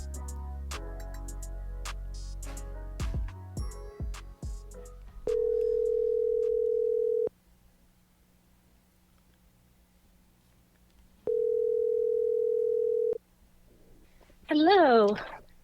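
Ringback tone while a phone call is placed: two long steady electronic rings separated by a silent gap. Clicks and faint noise come before them, and a voice answers at the end.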